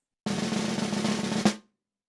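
A buzzed triplet roll on a snare drum: a single dense, sustained press roll lasting just over a second, ending on a sharper accented stroke, played alone and close.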